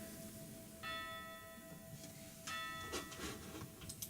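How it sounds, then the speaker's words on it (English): Church bells ring out in two clear tolling strikes with sustained, shimmering tones that hang and decay, fairly faint and distant, with no talking. "Church bells were still going."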